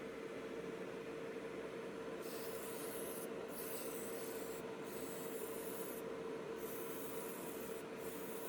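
Steady, close rasping of sandpaper on a primed plastic part from a vintage 1980s Monogram 1/32 Texaco tanker model kit, with a constant low hum running beneath the continuous rubbing strokes.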